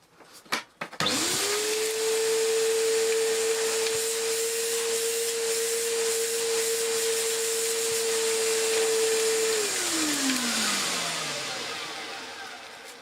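An Electrolux The Boss Cyclone Power Lite (Z) B4391 vacuum cleaner switches on after a few clunks, its motor rising to a steady loud whine and then winding down as it is switched off.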